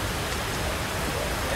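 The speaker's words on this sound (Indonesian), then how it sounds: "Pol, hujannya gede banget" Heavy rain pours steadily during a concert tour stop in Jambi, a dense unbroken hiss that fills the whole moment with no distinct drops or voices.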